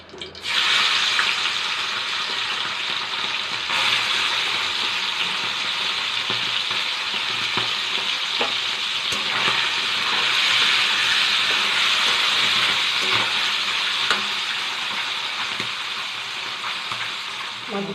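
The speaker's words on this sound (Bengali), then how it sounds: "তেল গরম হয়ে গেছে, এবার গুলে মাছগুলো দিয়ে দেবো" Gule fish frying in hot oil in a wok give off a steady, fairly loud sizzle with crackling pops throughout, continuous from start to finish.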